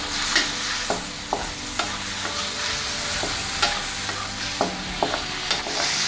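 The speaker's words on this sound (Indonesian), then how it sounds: "Kemudian diaduk rata." Fried potatoes and chayote get stirred in a sizzling pan, a spatula scraping and knocking against the metal every half second or so over a loud, continuous hiss of frying.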